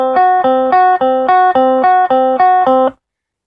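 Two notes from the Pokémon Lavender Town theme, played on an electronic, guitar-like instrument in a steady back-and-forth alternation, about ten repeats in a bright tone, close and loud with no voices.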